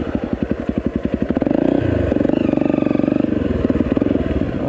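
A Honda CRF250L dirt motorcycle engine thumps with rapid pulses and then revs up into a steady, loud, close drone that rises and falls in pitch.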